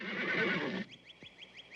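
Horse whinny heard up close: a loud, broad neigh for nearly a second, then a thinner, quieter quavering tail of rapid pulses fading out.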